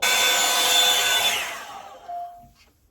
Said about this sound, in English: hair fully dried with the Revlon